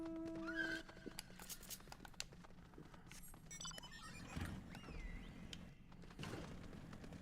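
A horse in the video game Final Fantasy XIV gives a clear, rising whinny, followed by a few clip-clop hoofbeats and thunks against quiet in-game ambience.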